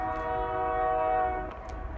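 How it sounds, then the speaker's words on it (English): A passing train sounds a sustained, loud horn chord outdoors, steady for over a second before fading, with rumbling rail noise beneath. "There's that beautiful train."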